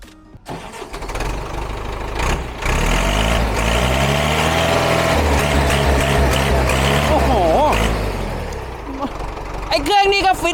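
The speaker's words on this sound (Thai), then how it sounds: "เดี๋ยวขอขอฟังเสียงเครื่องก่อนได้ไหม" An old Ford 6610 tractor engine runs with a steady, deep rumble close by, holding a fairly even idle with slight surges while people talk over it.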